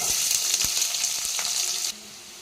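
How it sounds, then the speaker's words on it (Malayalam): Sliced onions fry in hot coconut oil in a pan for an egg roast, giving a loud, steady, close sizzle that drops to a quieter hiss near the end. "അതിലേക്ക് നമുക്ക് സവാള ഇട്ട് കൊടുക്കാം"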